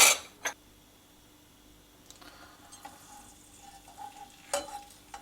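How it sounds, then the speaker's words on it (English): Hot oil sizzles quietly as peanuts deep fry, with a few metallic clinks of a utensil against the pan. "As usual, for deep frying, I have preheated some oil. Into it, I'll fry this peanut"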